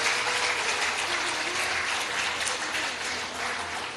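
A crowd at a devotional discourse breaks into sustained, dense hand clapping, loud and even throughout, fading slightly toward the end.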